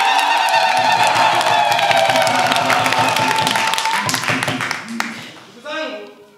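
A church congregation bursts into loud, sustained clapping and cheering that gradually fades out, with a voice rising briefly at the end.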